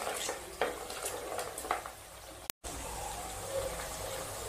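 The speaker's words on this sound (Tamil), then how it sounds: "இப்போ வெங்காயம் நல்லா வதங்கட்டும்" Onions with whole dried red chillies and two sprigs of curry leaves sautéing in a pan for prawn kuzhambu, a soft continuous sizzle with a few stirring scrapes and a brief dropout midway, quiet and without speech.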